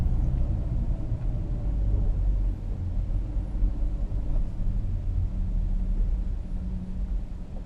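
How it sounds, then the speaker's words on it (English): A car rolls onto a ferry deck in Finland, a steady low engine and road rumble holding close and even throughout, with no voices. "We'll drive right onto the ferry."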